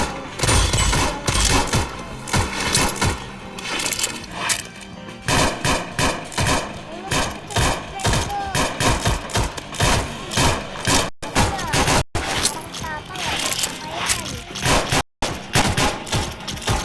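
Rapid machine gun fire from a video game, dense bursts of shots crowding the whole stretch with brief gaps, loud and close, while players talk over it.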